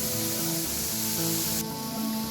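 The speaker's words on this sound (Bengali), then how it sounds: "এবার মশলা ধোয়ার জলটা দিয়ে দিলাম" Water used to rinse the spice paste is poured into a pan of frying small freshwater fish, setting off a loud, dense, continuous hissing sizzle up close.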